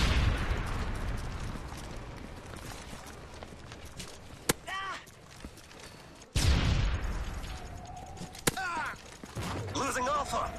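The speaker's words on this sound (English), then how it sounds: "Early Predator missile inbound." Predator missile strike explosions and gunfire in Call of Duty Modern Warfare 3: sharp loud blasts punctuate a rumbling battle, with one heavy boom midway and scattered cracks around it.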